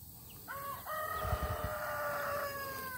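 A rooster crows nearby in one long, drawn-out call, with soft clucking and farmyard rustle underneath and no talking.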